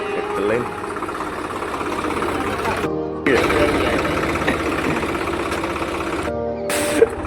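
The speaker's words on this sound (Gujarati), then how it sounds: "અમારા કાળુભાઈ આવી ગયા છે ટ્રેક્ટર લઈને." A tractor engine runs steadily in a village, a low rumbling idle that continues almost throughout, with two brief cut-outs and a short sharp knock near the end.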